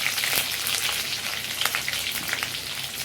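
Garlic frying in hot oil with curry leaves for a fish curry, a steady bright sizzle with soft crackles and spits, close and alone without voices.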